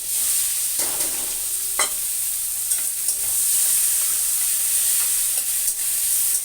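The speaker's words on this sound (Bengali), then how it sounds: "পেঁয়াজটা একটু ভালো করে ভেজে নেব" Chopped onion frying in hot oil in a pan while fish curry is being cooked, a steady close hiss of sizzling with a few brief stirring scrapes and clinks, no voices.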